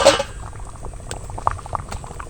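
Bottle gourd sits steaming in a kitchen pot for homemade paneer, a soft bubbling simmer with a brief louder lid or steam burst at the start and light pattering crackles after.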